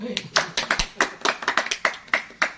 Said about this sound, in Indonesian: Tepuk tangan untuk bintang lah.